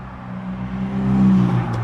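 A car with a loud exhaust drones past, a steady low engine rumble that swells slightly toward the middle and stays fairly close, with no talking.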